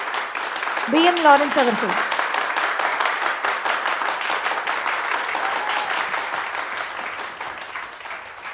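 A hall crowd at a Catholic youth musical event in Chennai breaks into strong, sustained applause, a dense wash of clapping that carries through the whole stretch after a brief spoken announcement at the start.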